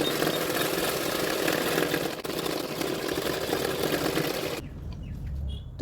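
A sewing machine runs steadily, stitching along the edges of the lining fabric of a katori blouse with a continuous close mechanical whir, then stops abruptly near the end.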